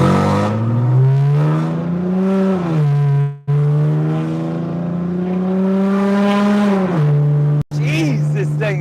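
Loud BMW E90 325xi engine droning steadily while driving, with a low pitch that rises and falls as it revs, briefly cutting out around three and a half seconds in, under constant close-up sound.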